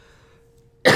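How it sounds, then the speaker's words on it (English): A single short cough bursts out near the end after a moment of near silence, close and loud. "Sorry about this coughing."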